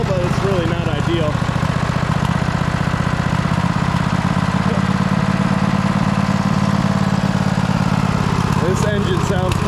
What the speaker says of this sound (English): Engine sounds kind of tired, doesn't it?